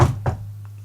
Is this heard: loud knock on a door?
yes